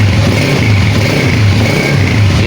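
A 2020 Honda CG 125 motorcycle's engine idles on its stand without throttle, a loud, close, steady low thrum with a faint mechanical clatter running evenly throughout.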